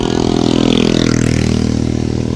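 Several Hero Splendor motorcycles with their silencers removed, revving on a road in a loud, rough, growling drone that stays steady and close, with no talk.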